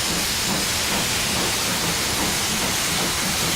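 Two steam locomotives run double-headed and tender first on the Moorlander train on a heritage railway, giving a loud, continuous broadband hiss and roar close by with no voices.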